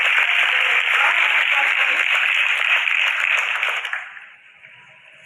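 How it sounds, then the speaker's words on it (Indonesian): Audience applause welcoming a 16-year-old student to speak at a youth dialogue event with Pope Francis, a dense steady clapping that runs loud for about four seconds and then fades away. "Kepada adik Brian, kita undang dengan tepuk tangan dulu."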